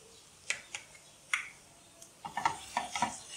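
A spoon scrapes and stirs through softened onions with salt, black pepper and mustard powder in a pan, giving a quiet series of scattered clinks and scrapes that grow busier toward the end, with no talking.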